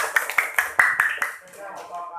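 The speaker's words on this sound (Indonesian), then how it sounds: "Tepuk tangan buat Tania." Students in a classroom give Tania a short round of applause: about seven sharp, fairly even claps that fade out as people begin talking.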